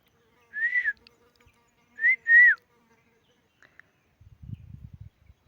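A person whistles three short rising notes, two of them close together, then quiet followed by a low, soft rustling rumble.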